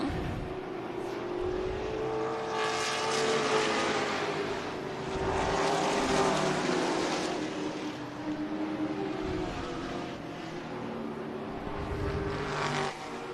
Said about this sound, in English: And 3 wide on the backstretch right now with that lap car of John Martinez